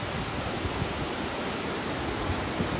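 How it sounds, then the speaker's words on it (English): Waterfall in thick fog somewhere in scenic Wakayama, Japan: a steady, broad rushing roar with no breaks, moderately loud and unbroken for the whole stretch, with no voices over it. "Waterfall, but you can't quite see the top,"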